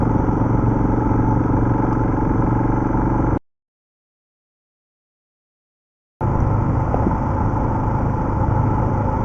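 Off-road motorcycle riding along a forest road, a continuous close engine drone with clattering texture, cut by a few seconds of total silence before the engine noise returns.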